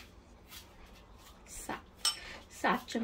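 A spoon scooping homemade full cream yogurt from a dish, a few sharp clinks and scrapes near the end after a quieter start, close and fairly soft, with faint background hum.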